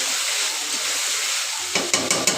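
Chicken fries in a pan with a constant bright sizzling hiss, then a few sharp scraping clicks of stirring near the end, close and without talk.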